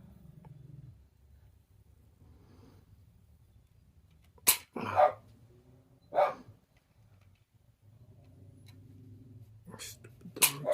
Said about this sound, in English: Stupid dogs.